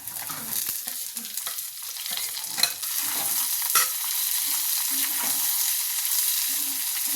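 Onion and garlic fry in a hot pan, a steady close sizzle with occasional stirring scrapes and clatter, no speech over it.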